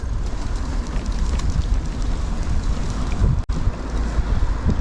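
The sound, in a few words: wind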